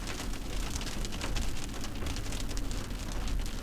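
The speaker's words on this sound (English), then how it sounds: "Nice heavy rain." Heavy storm rain pours down steadily in a dense, loud hiss of drops, with no voices over it.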